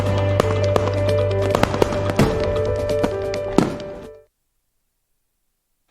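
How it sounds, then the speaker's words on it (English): Fourth of July fireworks going off in a rapid crackling barrage with sharp bangs over a steady hum, loud and close, ending abruptly in silence. "Woohoo! Fireworks!"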